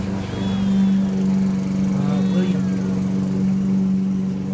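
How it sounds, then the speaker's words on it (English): A lawn mower runs steadily outside throughout, a constant droning engine hum in the background, while a person talks nearby. "My dad was mowing the lawn,"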